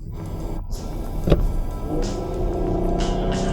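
A Ferrari Purosangue SUV with a V12 engine pulls away under throttle, a steady loud engine drone and road rumble building after a brief click and thump near the start.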